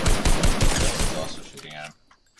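Rapid gunfire in Fortnite, a quick string of loud shots that tails off into quieter game effects, with talk mixed in.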